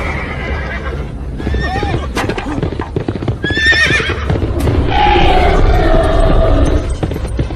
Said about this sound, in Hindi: घोड़े को पकड़ो।